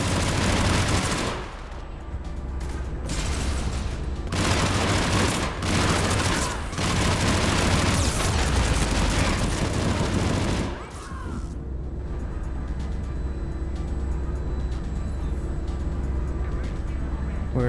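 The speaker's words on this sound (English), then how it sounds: "You gotta hate grenade spam." Dense bursts of gunfire and booming blasts, including grenade explosions, crowd together loudly in a Mass Effect 3 battle, then the firing stops and a quieter low rumble carries on.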